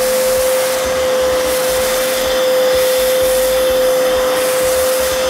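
An Arnica Vira washing vacuum cleaner runs steadily through wet cleaning of a laminate floor, a loud constant whine and rush with no pauses, close by and alone.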